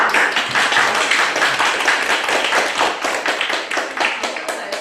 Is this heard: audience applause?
yes